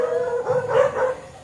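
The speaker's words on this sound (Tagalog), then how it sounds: "nag-iingay yung mga aso kasi niloloko ng mga bata" Dogs being teased by children let out a short, close howling yelp that rises and falls over about a second, with no talk over it.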